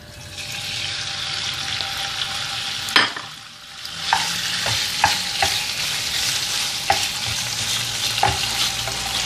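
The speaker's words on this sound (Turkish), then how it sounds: "Tavama ciğerlerimi ekliyorum." Liver frying in sunflower oil in a pan with some tail fat, being stirred: a steady, loud sizzle with repeated clinks and scrapes of the utensil against the pan.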